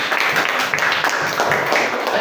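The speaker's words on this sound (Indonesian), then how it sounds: "Oke, tepuk tangan dong semuanya." Students in a vocational school classroom clap together in steady, continuous applause, a dense wash of hand claps over a short stretch.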